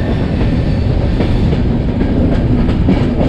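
The 12304 Purba Express passenger train from Delhi to Howrah runs steadily over the rails, with a continuous loud rumble and rhythmic wheel clatter heard from close by.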